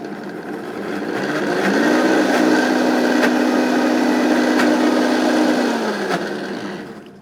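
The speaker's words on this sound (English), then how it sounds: "so this is such a big Vitamix that it all of it's at the bottom." A large Vitamix blender blending a lime juice mixture: the motor spins up into a loud, steady whirring drone that holds for several seconds before winding down, with no talking.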